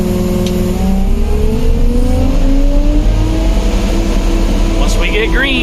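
Engine on a Canadian Kribber Adzer KKA 1050 revving up toward 1700 RPM, a loud steady mechanical drone rising in pitch over several seconds with a brief sharper burst near the end.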